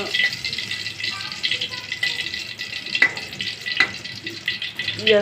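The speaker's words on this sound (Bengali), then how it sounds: "শুকনো মরিচগুলো ভাজতে নিই।" Dried red chilies frying in hot oil, a soft steady sizzle with occasional crackles and clinks of stirring, heard close and fairly quiet.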